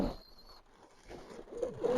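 A racing pigeon from a long-distance loft coos softly at close range, a few low murmuring calls rising toward the end amid light rustling.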